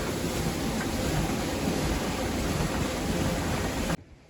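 Rushing water drives a water-powered flour mill in a Kashmir village, a loud, steady roar that cuts off abruptly near the end.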